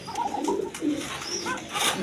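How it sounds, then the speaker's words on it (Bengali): A male Pashiraj pigeon coos close by in a few repeated, throaty rolling calls, with no talking over them. "দেখেন কোকাটা ডাকতেছে কীরকম"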